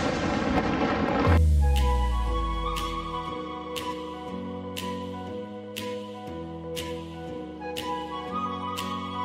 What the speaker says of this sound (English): Every day at exactly 12 o'clock, you will hear a loud blast of cannon fire.